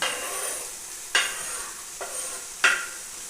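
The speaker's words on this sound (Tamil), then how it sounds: "பூண்டுக்கு அப்புறம் தக்காளி போட்டுக்கோங்க" Tomatoes and crushed garlic sautéing in a pan for brinjal thokku, with a steady sizzle broken by three scraping stirs of a spatula, close and moderately loud, no voices.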